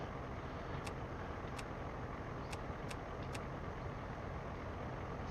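Steady low drone of a Kenworth truck engine in American Truck Simulator, running continuously at an even level, with a few brief high ticks over it and no talk.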